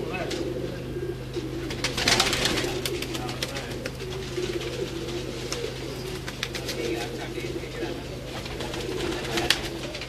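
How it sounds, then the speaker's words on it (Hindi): Pigeons kept by a hobby breeder cooing close by, soft repeated low coos under a constant hum, with someone talking over them for much of the time. "ये देखें जी कबूतर"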